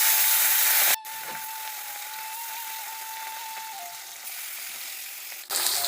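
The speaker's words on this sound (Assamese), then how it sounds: "আৰু এইফালে মাছ ফ্ৰাই হৈ আছে।" Fish frying in hot oil in a heated wok, a steady broadband sizzle that holds loud and close for several seconds, briefly cut off near the start and again near the end, with no talking.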